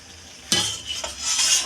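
A lid is lifted off a pot of simmering mixed-vegetable chorchori with a sudden close clatter, followed by steady bubbling and hissing steam that swells louder.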